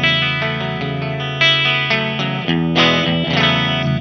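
A Fender '62 reissue electric guitar on its bridge pickup plays a short run of chords and notes through a Laney L50H head and 4x12 cab, with a bright, effect-tinged tone.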